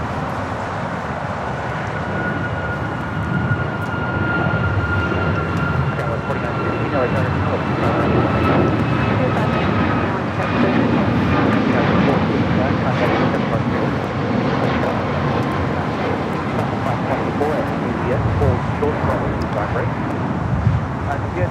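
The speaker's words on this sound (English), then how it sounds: "the last time we're going to see the Japan Airlines 777-300 ER here at LAX now pushing it back" A Japan Airlines Boeing 777-300ER jet being pushed back at LAX, with a loud steady engine roar and a rising whine, as someone talks over it throughout.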